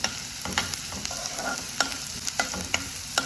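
Finely chopped ginger fries in hot oil for a tamarind-ginger curry. A steady low sizzle runs throughout, broken by several sharp stirring scrapes and clicks against the pan.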